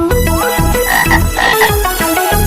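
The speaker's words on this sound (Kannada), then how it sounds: "ಕೆಸರಿನಿಂದ ಕಪ್ಪೆಯು ಬಂತು" Short repeated frog croaks sound over a bright, tuneful children's rain song.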